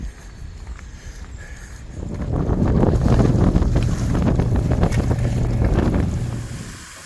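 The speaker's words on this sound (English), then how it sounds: "got the wind coming in from that direction" Steady wind gusts roar across the microphone, swelling louder midway, with faint water lapping and creaking beneath a boat anchored on the Cumberland River.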